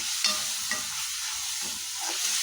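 Sesame seeds with soft tomato and onion masala frying in a pan for egg masala, a steady broad sizzle with a few soft scraping stirs of a spoon, close and alone with no voices.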